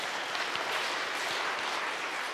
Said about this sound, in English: Let's give them a round of applause and praise God for them.